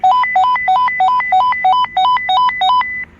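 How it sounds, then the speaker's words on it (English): Craftsman rechargeable walkie-talkie, model CMXZRAZF118, sounding its call alert: a loud, close electronic ringtone of rapid rising beep trills repeated about ten times in an even rhythm, then stopping abruptly. "You hit the call feature and it rings the other one."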